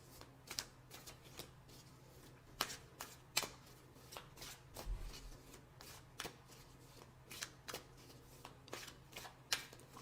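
Tarot cards are shuffled by hand in a quiet room, a steady run of soft riffling snaps and sharp card slaps recurring every second or so, close and fairly faint, with no voices.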